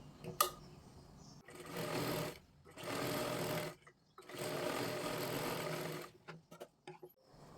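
An electric sewing machine stitches a katori blouse in three steady, continuous runs separated by short pauses, with small clicks and handling noises between the runs.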